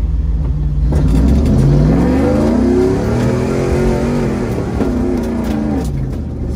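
A Caterpillar heavy machine's diesel engine revs hard under load while climbing a rough dirt road in the bush, a loud sustained roar with rising and falling pitch, close by and with no voices.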